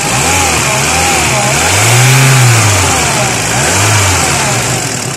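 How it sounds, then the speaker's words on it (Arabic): A car engine running on LPG gas revs up and down repeatedly, a close, loud, rough drone rising and settling in several swells over a steady idle. "كيزيد الموتور."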